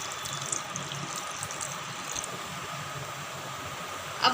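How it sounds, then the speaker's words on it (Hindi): Water is poured into a pan of masala arbi, a soft, steady trickling wash under light kitchen noise, ending with a few clinks. "अब इसमें हम थोड़ा सा पानी डालेंगे।"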